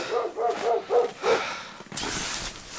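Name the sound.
dog barking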